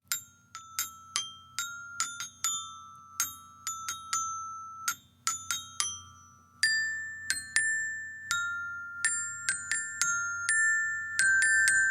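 A glockenspiel plays Carol of the Bells, with bright, ringing metal bar strikes in a repeating rhythmic pattern that decays between notes, heard alone and close up over a faint background hum.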